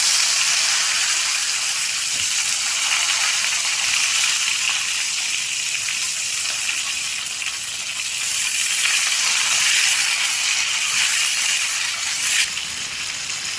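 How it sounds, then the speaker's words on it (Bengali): Potatoes and raw banana fry in hot oil, giving a loud, steady sizzling hiss that holds throughout with no talk over it. "এই তেলটাতে আমি দেখুন আলু আর কাঁচকলা একটু ভেজে নেবো"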